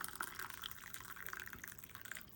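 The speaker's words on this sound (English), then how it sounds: "And drain some water in here." Water is poured off an instant yakisoba cup into a bowl, a faint steady splashing trickle with small drips running throughout.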